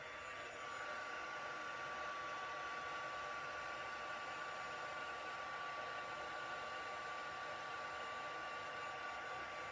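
Craft heat tool runs for the whole stretch with a constant, even blowing whir and a faint high whine, steady and close, no voices.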